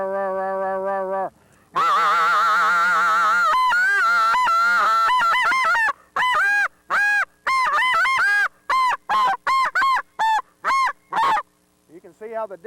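A goose call blown by a person imitates geese, giving a long honk, then a run of rapid, clipped honks and clucks in quick bursts, loud and close with short pauses between notes.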